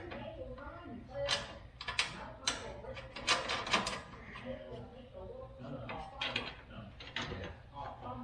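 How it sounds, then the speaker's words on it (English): Socket wrench ratcheting while tightening bolts during a snowblower installation, bursts of quick clicking strokes in an irregular rhythm, close and fairly quiet. "And then I'm going to go through my socket wrench and tighten her up."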